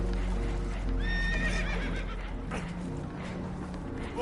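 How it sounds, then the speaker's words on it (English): Spooked horses in the video game Red Dead Redemption 2 whinny in sharp rising cries over a steady clatter of hooves, loud and close, with a faint voice in the mix. "Horses are spooked"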